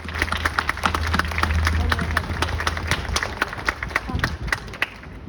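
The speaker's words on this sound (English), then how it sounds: "Could we please give them a round of applause for the planning committee?" Clapping from a crowd gathered at an anniversary ceremony for a rehabilitation center, a dense, steady round of applause that fades slightly toward the end.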